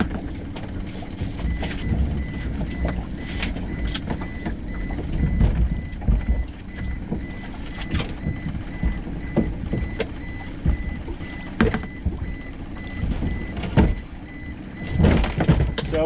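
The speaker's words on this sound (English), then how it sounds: "The beeping is the depth finder" A boat's depth finder beeps in short repeated chirps over the steady rumble of an idling engine in neutral, with wind and water noise throughout, off the coast near Falmouth, Cornwall.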